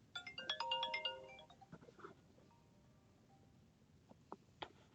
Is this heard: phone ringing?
yes